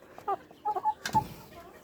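A farmyard hen clucks softly while drinking water, a few short, quiet clucks spaced apart among other poultry, with a brief rustle and no speech.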